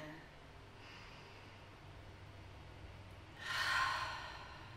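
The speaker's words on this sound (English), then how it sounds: "inhaling through the nose and exhaling through the mouth for a few cleansing breaths" A person takes a big breath in and then exhales through the mouth in a breathy, audible sigh, close to the microphone during a yoga breathing practice, with a faint earlier inhale.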